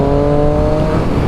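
A 2018 Triumph Street Triple RS motorcycle engine, ridden in road mode, gives a short, loud, steady drone with a strong tonal hum and no pause.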